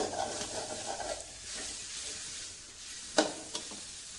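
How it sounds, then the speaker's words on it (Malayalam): Lemon pickle in a hot pan gives a soft, low sizzle with faint scraping stirs, followed by one sharp utensil knock near the end and a smaller tap just after. "ഇത് നന്നായി നമുക്ക് ഇളക്കി കൊടുക്കണം"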